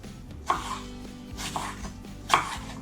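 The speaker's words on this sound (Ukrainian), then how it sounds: "Нарізаю яблучко соломкою" A knife cuts an apple into strips on a board with a few sparse, soft chops, close by over a quiet kitchen background.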